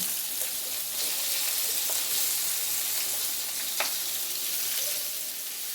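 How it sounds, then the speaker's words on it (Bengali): Onions and potatoes frying in oil with dried red chillies and a bay leaf for a fish-head chorchori, giving a steady, even hiss of sizzling oil with a few faint clicks. "তারপর পেঁয়াজগুলো দিয়ে দেব, তার সাথে আলুগুলোও আমরা দিয়ে দেব।"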